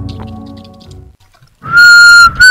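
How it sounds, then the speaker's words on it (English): A short, clear whistled tone rings out twice near the end, loud and close, following a few seconds of low murmuring sounds. "What the heck is up with her whistling"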